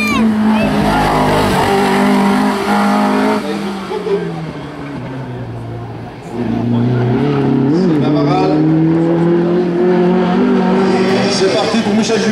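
A Simca Rallye 2 rally car at a historic hill climb, its engine droning loud and near with rising and falling revs, dipping midway then climbing again, while a commentator talks over it.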